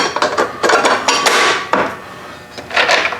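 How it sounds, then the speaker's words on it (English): A metal reinforcement bar is set onto a roof rack for mounting rooftop storage boxes, giving a series of sharp clanks and knocks, several close metallic hits in an irregular rhythm with no talk. "Reinforcement bar goes on,"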